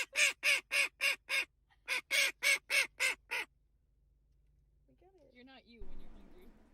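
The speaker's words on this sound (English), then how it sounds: "Watch this duck." A duck quacks loudly in two rapid bursts of harsh, evenly spaced calls close by, followed by quiet and then brief faint mechanical noise.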